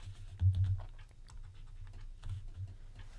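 Keys on a computer keyboard clatter in short, irregular bursts of light clicks, faint and close, with brief pauses between runs and no voices.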